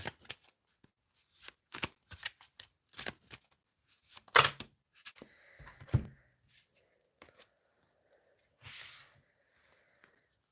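Tarot cards are shuffled by hand in a quiet room, a run of quick, crisp riffling bursts and taps that come irregularly and then thin out to a few soft slides, close and alone.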